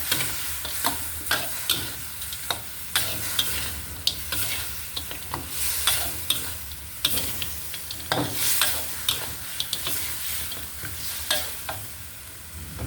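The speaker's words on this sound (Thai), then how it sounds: "ตามด้วยผงปรุงรสผงนัวน้ำตาลทรายค่ะผัดให้เข้ากันค่ะ" Stir-frying in a hot pan after seasoning powder and sugar are added, with constant sizzling under repeated sharp scrapes and clinks of a utensil stirring the food at an irregular rhythm.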